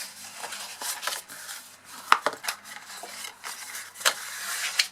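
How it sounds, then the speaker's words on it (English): Paper being folded and burnished along score lines with a bone folder, soft close rubbing and sliding strokes with a few crisp creasing ticks, quiet and continuous. "I'll grab my bone folder here. So obviously we're just going to fold and burnish our score lines."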